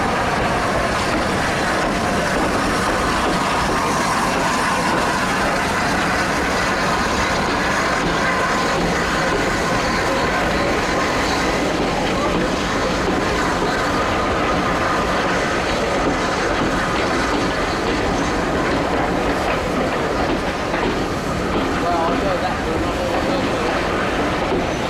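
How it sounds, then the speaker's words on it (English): Steam locomotive 35028 Clan Line arrives at Ropley on the Mid Hants Railway with a passenger train: a loud, steady rumble of wheels and carriages with faint clickety-clack and an occasional squeal runs unbroken and close throughout. "35028 Clan Line arrives with the 3 p.m. Alton to Alresford service"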